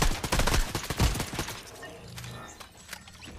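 Rapid bursts of gunfire from the video game Fortnite, dense and loud at first with sharp overlapping shots, then thinning into scattered fainter reports over the last couple of seconds.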